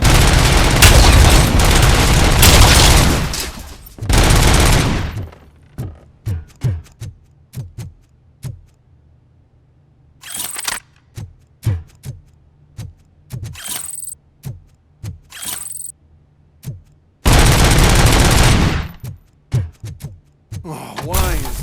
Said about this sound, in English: those UAVs shoot so beautifully. Too bad they're shooting at me!